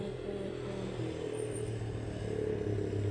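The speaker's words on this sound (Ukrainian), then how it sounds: "вон скутер об'їхав мотоцикл" A scooter and a motorcycle race past on a village road, a steady engine drone with a rising rev, fairly close and continuous.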